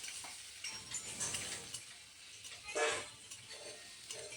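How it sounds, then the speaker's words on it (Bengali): Onion and garlic paste are sautéed and stirred in a pan while a village-style green banana dish is cooked. Faint sizzling runs under intermittent scraping strokes of the spoon, with no talking. "পেঁয়াজ আর রসুন দিয়ে আমি ভালোভাবে কষিয়ে নিচ্ছি।"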